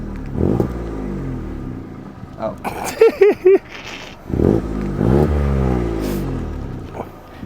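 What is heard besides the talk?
car engine revving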